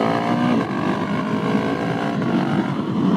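A Husqvarna 701SM motorcycle with a Leo Vince Nero slip-on exhaust idles and burbles loudly and close, with a rough throaty exhaust tone holding steady throughout, no talking.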